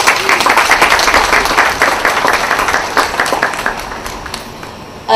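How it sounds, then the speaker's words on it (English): A room full of guests applauds a visiting art faculty chair at an evening art show exhibit opening, dense steady clapping that starts loud and slowly thins and fades over about five seconds. "if we could give them a round of applause"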